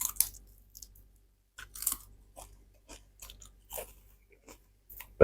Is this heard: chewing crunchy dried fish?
yes